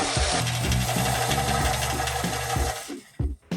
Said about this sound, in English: can you sand PVC pipe?